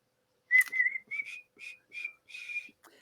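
A person whistles a short tune alone: a string of clear, close, moderately loud notes in separate phrases with brief gaps between them.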